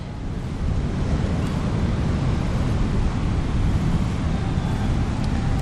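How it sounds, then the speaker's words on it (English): Steady roar of wind buffeting the microphone over crashing surf at Nai Thon Beach, Phuket, Thailand, a constant loud wash of noise with no voices. "A bit windy today, so the sea is quite active"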